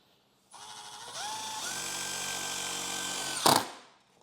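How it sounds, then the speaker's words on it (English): A cordless drill whirs up and runs steadily, driving a self-tapping screw into a car's body panel during a speaker install, then ends with a short sharp crack as the screw seats. "Let me grab my drill and do that step."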